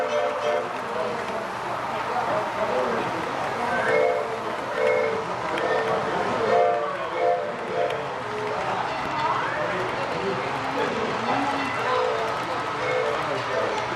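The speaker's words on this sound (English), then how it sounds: "Here comes the big boy and a long train." A model train rumbles along steadily with a rhythmic clatter at a farm show, continuous and fairly close, while people talk over it.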